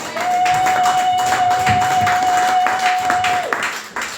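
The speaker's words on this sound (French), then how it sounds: "Est-ce qu'on peut acclamer pour Jésus?" A church congregation claps and cheers loudly during a worship service, a dense sustained wave of applause lasting about four seconds with a steady electronic tone running underneath.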